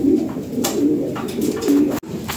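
Pigeons at a sale coo in low, repeated rounded phrases close by, several coos overlapping with soft rustling between them.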